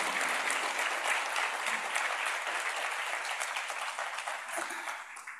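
A warm, even round of applause from a ceremony audience welcoming an acting education commissioner runs steadily for several seconds before tapering off.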